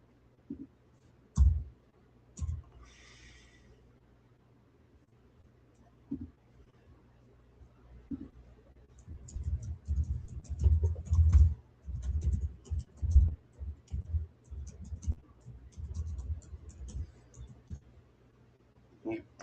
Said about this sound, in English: You heard me typing just now slowly as I looked at my keys